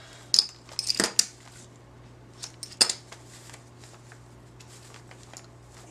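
Scissors snip thread ends on a small handmade sewn journal: a few sharp metallic clicks and snips spaced irregularly, close and fairly loud over a quiet steady hum.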